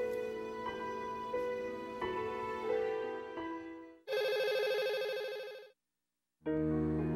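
A telephone rings with a bright electronic melody, then a harsher buzzing trill, pausing briefly before ringing again, fairly faint and with no talk.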